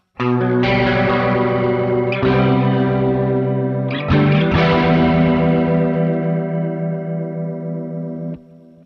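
Sustained guitar chords swirl through a fast-rate modulation effect from a Sonicake Warped Dimension pedal, wobbling and shimmering with echo, two fresh strums ringing out before the sound cuts off.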